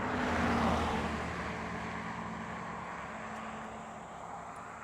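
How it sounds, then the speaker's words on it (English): Cars pass along a road right beside a hilly route, one vehicle sweeping by loudly at first and then fading into a steady broad roadway rumble. "Excuse the cars, we're right along the road"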